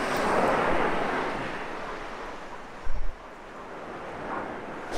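Atlantic Ocean surf washes in at Myrtle Beach, South Carolina, a broad steady rush of breaking waves with wind buffeting the microphone and a brief low thump partway through.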